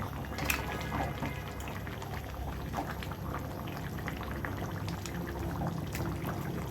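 Fish boiling in a pot makes soft, continuous bubbling and gentle liquid gurgles, quiet and close, with no voices.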